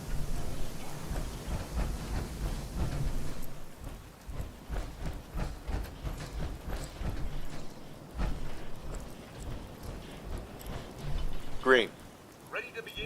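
Steady rain patters across the Fallout 4 game world, a soft continuous hiss running under a man's near, ongoing talk, with a brief sharper sound near the end.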